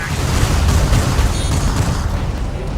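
Dense, continuous booming of gunfire and explosions striking gun tanks in the Mobile Suit Gundam Crossfire video game, a loud unbroken rumble of blasts and bursts throughout.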